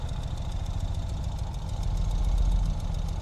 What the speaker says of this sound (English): Here's the two-wheel drive system spinning.